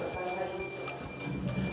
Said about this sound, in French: Ah, une petite sonnette, c'est rigolo.